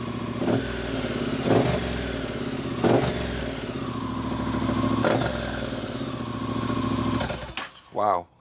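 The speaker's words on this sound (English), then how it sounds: "I'm going to start her up and see what it sounds like." A Honda NC750X motorcycle fitted with a Black Widow exhaust revs repeatedly nearby, about five sharp throttle blips over a steady idle, loud and close, with a short voice at the end.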